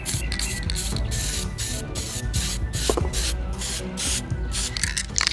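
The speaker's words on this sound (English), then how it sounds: "Now I apply a primer coat of black army painter." Black Army Painter primer sprays from a can onto 3D-printed diorama pieces in repeated short hissing bursts with brief pauses between, close and fairly loud, with no voices.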